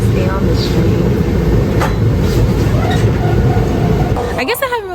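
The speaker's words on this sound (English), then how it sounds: "I stay on this train." Riding aboard a moving train, with a steady loud rumble of the carriage and track noise throughout, a few faint squeaks, and the sound easing slightly near the end.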